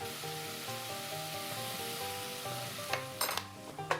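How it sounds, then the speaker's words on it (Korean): Ingredients stir-fry in a pan, sizzling steadily, before wine is added for a flambé, bringing brief louder bursts of hissing and the clatter of utensils against the pan. "볶아주고 와인으로 플람베 한번 해주시고요"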